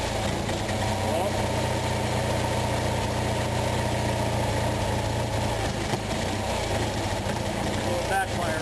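A small Onan engine idling steadily during carburetor idle-mixture adjustment, a constant low rumble with a few faint irregular pops, loud and close throughout.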